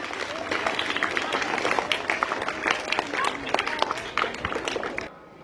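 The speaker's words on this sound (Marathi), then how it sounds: "जोरदार टाळ्या" An audience at a primary school Savitribai Phule Jayanti function claps loudly and continuously for several seconds, a dense crowd of hands with a few voices mixed in before it drops away at the end.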